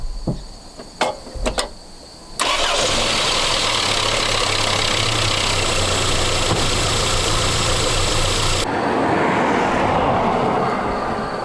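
A 1984 Chrysler LeBaron's 2.6 engine with a Mikuni carburetor is cranked after a few clicks and fires into a loud, steady rough idle, which drops to a slightly different tone near the end.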